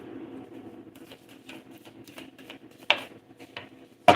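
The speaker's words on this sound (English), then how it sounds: "I've already shuffled the cards, but I do this." Tarot cards handled and shuffled close up: a run of soft, quick riffling patters and taps, with two sharper, louder slaps of the deck near the end against a quiet background.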